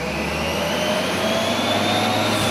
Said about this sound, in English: Man, this engine does wind up quick when you tap it, though.